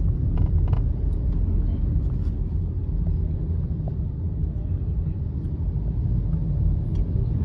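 A bus engine rumbles low and steady during a ride on a fairly clear road, with faint clicks and rattles from the cabin and no clear talk.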